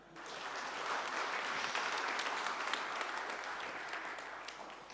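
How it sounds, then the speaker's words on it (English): Audience applause for a speaker at a talk on hunting mobile security threats, a dense, steady patter of many hands clapping that rises quickly and holds at moderate volume for the whole stretch, with no voices over it. "Hand of applause for Sascha"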